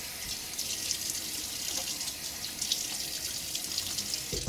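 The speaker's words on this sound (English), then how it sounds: "Throw a little water on my face." Tap water runs steadily and splashes at a bathroom sink as water is thrown onto the face during a wet shave with a Timeless stainless .68 open-comb safety razor and Gillette Nacet blade, a continuous close hiss with no talking.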